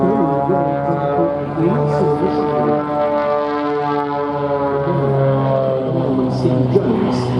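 Red Bull Matadors civilian aerobatic team aircraft displaying at the Duxford VE Day anniversary air show, a loud, sustained droning engine note with shifting pitch throughout, steady and close, with occasional faint voices.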